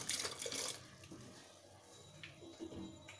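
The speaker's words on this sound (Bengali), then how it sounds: "এবারে আমি জল দিয়ে দিচ্ছি।" Water pours into lentils in a pot, a short splashing rush at the start that fades into quiet trickles and a few soft drips.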